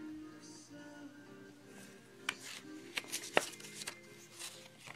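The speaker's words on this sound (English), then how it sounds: "Flipping through Gory Gazette and Beast Memory." Several papery flicks and rustles as pages of a small Monster High doll booklet are turned, over soft background music.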